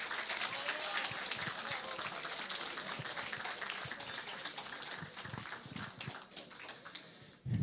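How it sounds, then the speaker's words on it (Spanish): Audience applause welcoming a speaker at a lecture on social responsibility, a steady dense patter of clapping throughout, fairly even in level, fading slightly before a brief louder burst at the end. "recibamos con fuertes palmas"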